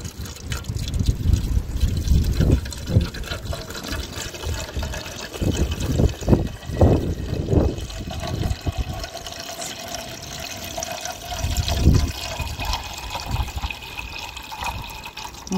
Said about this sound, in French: Je viens y rajouter 100 centilitres d'eau.